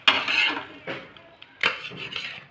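A freshly fried omelette is slid from a pan onto a plate, giving a few scraping, clattering strokes of a utensil against cookware in short bursts with pauses between, close and fairly loud, with no talking.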